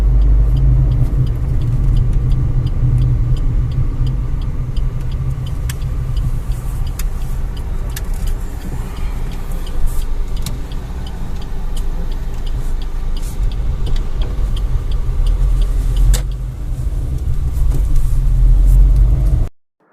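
A Maruti Ciaz smart hybrid car converted to CNG drives in first and second gear, with a continuous low engine and road rumble, scattered clicks and light knocks from inside the cabin, and no talking.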